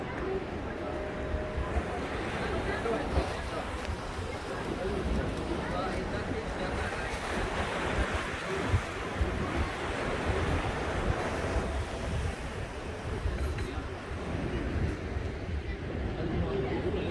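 Seaside cafe by the sea near Al Hoceima, Morocco, with a steady wash of surf and waves mixed with wind noise on the microphone and a voice talking over it throughout.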